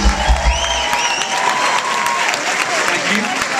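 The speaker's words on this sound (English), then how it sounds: "you wouldn't mind giving him a massive round of applause on our behalf" Sustained crowd applause and cheering for a departing bandmate at a music awards show, filling the hall steadily, with a voice speaking over it and a few low thumps at the start.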